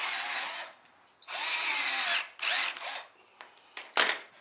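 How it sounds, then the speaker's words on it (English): A power drill boring a pilot hole in a boat trailer converted from a kayak trailer, several close whirring bursts of different lengths with short pauses between them. "You wanna drill a pilot hole first,"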